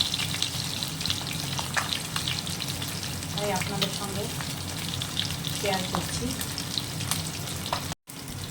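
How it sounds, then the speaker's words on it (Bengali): Live rohu fish pieces frying in oil in a home kitchen, a steady close sizzle with scattered spattering pops, while someone talks quietly over it and it briefly cuts out near the end. "ভালো করে ভেজে নিতে হবে এটা জ্যান্ত রুই মাছ"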